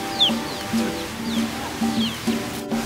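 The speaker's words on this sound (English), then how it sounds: "how chickens are a common sight anywhere throughout Key West." Chickens in Key West cluck in short repeated bursts close by, with a few higher chirps over a steady outdoor hum.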